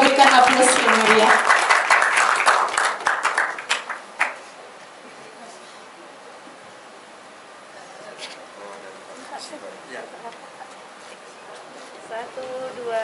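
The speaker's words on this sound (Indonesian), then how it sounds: "tepuk tangan kita berikan aplaus yang meriah" Audience at a campus election outreach event and film screening breaks into loud clapping that fades out after about four seconds, leaving a quiet room with faint scattered sounds and murmurs.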